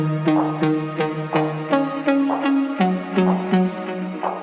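A bright Serum synth pluck plays a bouncy melodic line of short, evenly spaced notes, each with a sharp attack and quick decay, with no other sounds.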